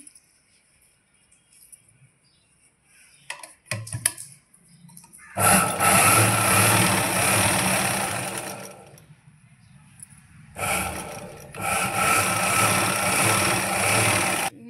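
A sewing machine stitches the shoulder seam of a school uniform shirt in two loud, steady runs with a pause between, after some light handling noises.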